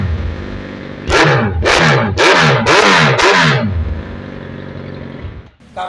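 A 2017 Suzuki Hayabusa motorcycle fitted with an aftermarket exhaust idles, then gets four sharp, loud throttle blips in a row. Each rev rises and falls quickly before the engine settles back to a rumbling idle, heard up close.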